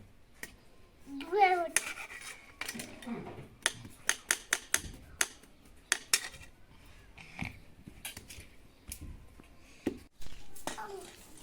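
A large knife chops green jackfruit in a village kitchen, giving a run of sharp, close clicks and knocks under scattered voices, including someone talking.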